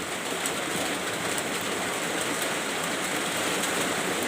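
Dense, steady roar of heavy rain with a windy rush, loud and unbroken throughout, with no distinct thunderclap.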